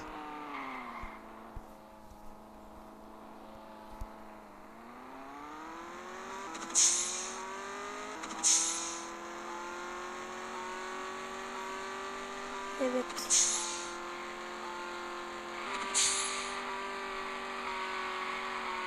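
Cars race in a 350z driving simulator game on Android, with a sustained engine drone that shifts pitch through gear changes and four sharp tire squeals punctuating the run, alongside someone talking.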